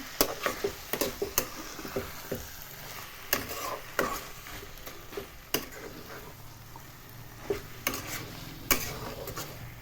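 Spiced taro leaves with hilsa fish head, seasoned with cumin powder and sugar, are stirred in a pan, giving repeated scraping clicks and knocks over a soft steady sizzle, close and moderately loud with no talking.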